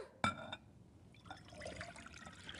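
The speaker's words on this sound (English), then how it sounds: "I'm going to start with putting my liquids in a bowl. So I'll put in my water." Water poured into a mixing bowl for a nut roast recipe, a sharp clink followed by a soft, quiet trickle and splash that fades over a couple of seconds.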